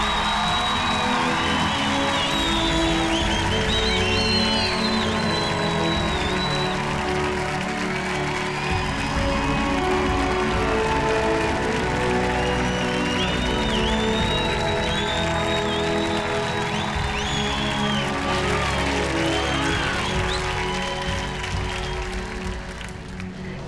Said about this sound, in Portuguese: junta-se toda esta claque a aplaudir a Inês!